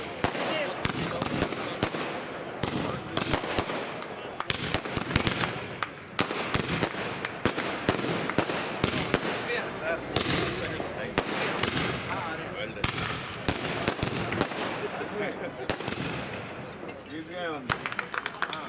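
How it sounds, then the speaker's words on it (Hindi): Firecrackers burst almost nonstop at an outdoor club election celebration, a dense, loud crackle of sharp pops and bangs, some near and some farther off, with people talking underneath. "आप कृपया पटाखे थोड़ा अभी बंद कर दें"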